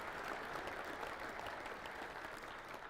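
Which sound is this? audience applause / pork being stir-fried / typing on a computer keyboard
audience applause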